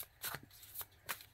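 Oracle cards being handled and shuffled: three short, soft riffling bursts of papery flutter, close and quiet, with no talking.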